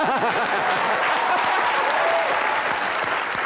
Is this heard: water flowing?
no